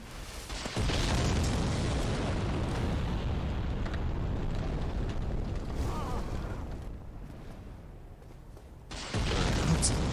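Fiery explosions from a boulder thrown down in a Dark Souls-style action video game, a loud sustained roaring rumble filling most of the stretch, easing briefly before a fresh blast near the end.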